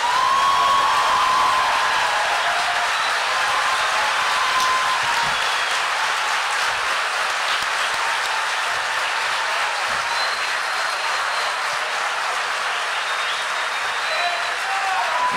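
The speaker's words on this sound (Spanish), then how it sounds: "aplauso." An audience claps at a book fair in Berazategui, a steady, dense wash of applause that lasts the whole stretch at an even level, with faint voices mixed in.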